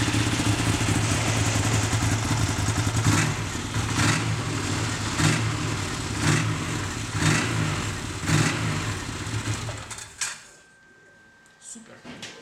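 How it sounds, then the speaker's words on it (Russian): A Stels Rosomakha S800 two-cylinder snowmobile engine runs with a bassy, even rumble and regular pulsing bursts, then cuts off abruptly near the end, leaving quiet. "Достаточно приятный звук мотора. Басовитый, ровная работа."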